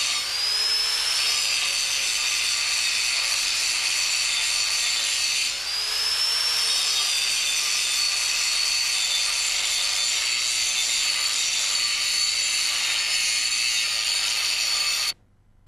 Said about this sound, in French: Finition à la meule épaisse.